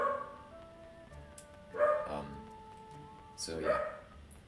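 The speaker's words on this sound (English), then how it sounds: "sorry about that dog barking" A dog barks twice in short bursts in the background while a person talks over it, with a steady tone running underneath.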